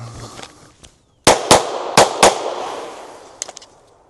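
Four sharp gunshots from self-reloaded practice ammunition, fired in two quick pairs, loud and close, each ringing out with a decaying echo, followed by a few fainter clicks.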